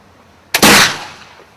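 An American flintlock long rifle fires once, a sharp loud blast that follows a brief pan flash crack and decays over about half a second into quiet.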